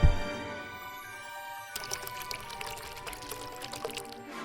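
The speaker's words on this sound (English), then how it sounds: "The first step is to pour 1 part hardener into your mixing container." Epoxy resin hardener pours into a mixing container, a soft broadband liquid stream that starts partway through and runs steadily, close by, over faint steady background music.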